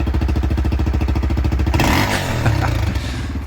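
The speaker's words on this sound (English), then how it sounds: "that exhaust did sound pretty horrible, to be fair, and definitely needed replacement" A worn exhaust on an XR600R motorcycle engine pulses in a steady, loud idle thump, then revs up harder and rougher partway through, with clattering mechanical noise close by.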